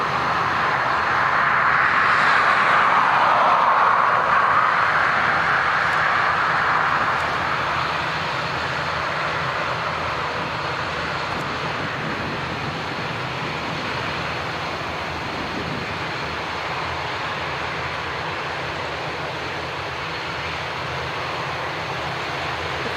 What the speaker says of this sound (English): Next up is EI764 Dublin to Tenerife and A320.